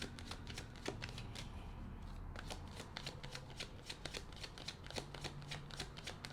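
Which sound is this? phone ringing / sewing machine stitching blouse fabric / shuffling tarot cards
shuffling tarot cards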